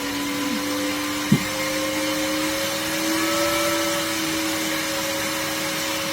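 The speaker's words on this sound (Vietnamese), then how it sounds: "Các bạn nghe tiếng quạt nó tăng không?" A small electric fan powered by an old charger at 12 V whirs close up, a steady loud hum whose motor tone climbs slightly as it speeds up, with one brief click and no voices.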